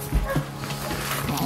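A large dog gives a short, soft whimper close by, heard briefly beneath a person's gentle talking.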